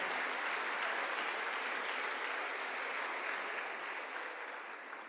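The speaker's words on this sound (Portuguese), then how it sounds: "Dá um aplauso aí para o Senhor." A congregation in a church bursts into steady, dense applause that fills the space, loud and sustained throughout before easing slightly at the end, with no talking over it.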